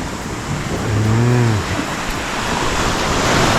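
Steady surf washes and hisses along a beach on Koh Samui, with a brief low tonal call rising over the waves for a moment before the rolling wash carries on alone.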